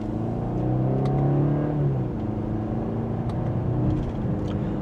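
2025 BMW 430i Gran Coupe accelerating in sport mode in second gear, heard from inside the cabin as a steady, rising engine drone that swells briefly and settles, with a low road rumble and no talk.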